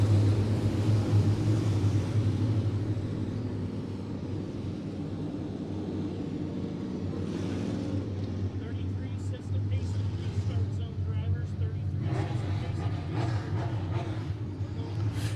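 POWRi Midwest Modified race cars roar around Monett Motor Speedway during a heat race, a continuous engine drone rising and swelling as the pack passes, heard under a track announcer's commentary.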